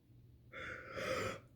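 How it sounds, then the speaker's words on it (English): A person yawns once, a soft breathy intake rising into a drawn-out exhale lasting about a second, quiet and close with no talk. "I just like made myself yawn when I can't breathe."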